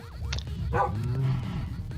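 Tame dogs in the video game Minecraft bark a few times in quick succession, set over a steady low in-game background hum.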